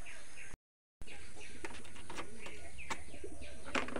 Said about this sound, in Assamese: ৰাতিপুৱা এই শব্দটো মজা লাগে চৰাইটো কুলিয়ে মাতে পায় মজা লাগে